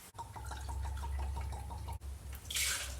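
Buffalo Trace whiskey poured for a whiskey sour, a quick run of rhythmic glugs and trickles close up, followed by a brief splash.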